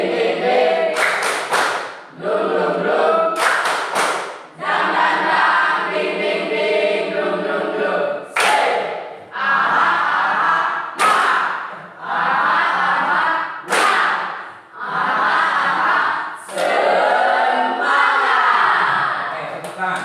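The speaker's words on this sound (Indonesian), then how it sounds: "Tepuk semangat." A class of students performs a rhythmic spirit-clapping chant: sharp bursts of group clapping alternate with loud shouted group chanting in a steady call-and-clap pattern.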